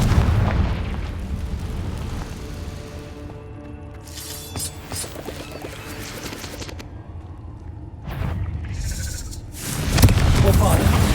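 Confringo spell blasts in a Harry Potter video game, several booming explosions with shattering crashes at intervals over a continuous rumble of game sound and music, and a voice calls out at times.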